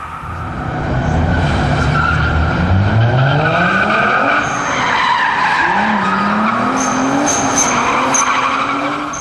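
Loud tyre squeal and skidding over a revving engine as a car reverses in the video game Max Power Carnage (2004), pitch sliding up and down continuously for several seconds with no talking.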